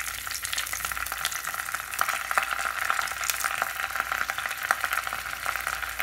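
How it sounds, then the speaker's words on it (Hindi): Asafoetida, cumin and ginger garlic paste frying in hot oil in a pan for paneer bhurji, a steady close sizzle with faint crackles and pops throughout, no voices. "गोल्डन ब्राउन होने तक भून लेते हैं इसको"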